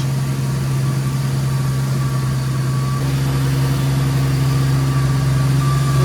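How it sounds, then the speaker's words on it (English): A 4.0L Jeep Wrangler TJ engine idles steadily with a worn clutch, a constant close low hum and drone with a faint whine, with no pauses or talk over it. "That clutch doesn't sound too great though."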